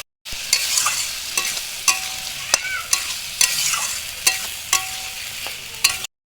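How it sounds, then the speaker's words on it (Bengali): Fried jackfruit stirred into a spiced masala with a little water in a pan, a steady sizzle broken by repeated scraping clicks of the spatula, close and with no voices. "অল্প একটু জল দিয়ে কষিয়ে নেব। ভেজে রাখা এঁচোড় দিয়ে দিচ্ছি।"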